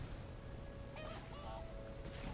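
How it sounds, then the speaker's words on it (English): Birds honking in the video game Enderal, a few faint goose-like honks over a steady low rumble of ambient noise, distant and brief. "What is that? Oh, the birds."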